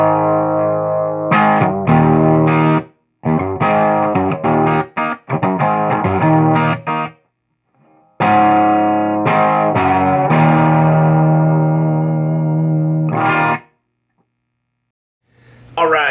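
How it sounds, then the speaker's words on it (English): Electric guitar played through a one-channel Highway 83 amp, with mids and treble around 6 and a Boss DS-1 distortion pedal in front, strumming distorted chords and short riffs with brief pauses between phrases. "I put a Boss DS1 pedal in between the guitar and amp, just so you can hear the amp with a bit of distortion on"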